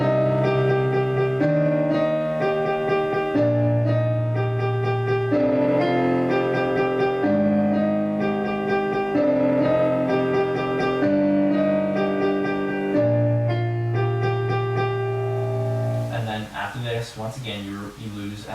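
Solo piano plays a piece, a steady run of sustained chords and melody notes at close range with even loudness, ending in a busier, ringing passage.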